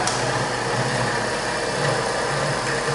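A thirty-year-old series motor training set running, a steady mid-pitched motor hum with a continuous whine and slight vibration, close and constant for the whole stretch without talk.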